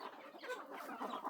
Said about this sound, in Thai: นี่เด้อลูกไก่ของเจ้าเด้อกู